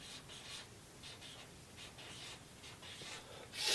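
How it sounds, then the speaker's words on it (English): Handwriting the number 3 and a big X: soft, faint scratchy strokes in short bursts close by, with no one talking, ending in a brief louder rustle. "I'm going to make a big X and I'm going to write"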